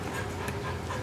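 A dog pants rapidly and close up during drop-it toy training, quick rhythmic breaths with a faint whimpering edge running through the short burst.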